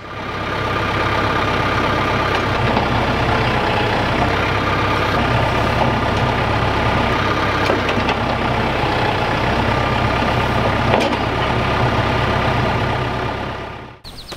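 A TYM T574 tractor engine runs at a steady, loud, close idle with an even low rumble, then cuts off abruptly at the very end.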